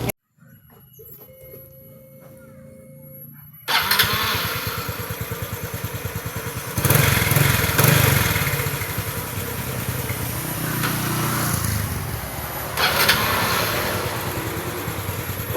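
Honda Revo FI motorcycle engine, first a faint mechanical whir, then the engine catches and settles into a steady, rapid idle putter close by, with a couple of brief rev swells.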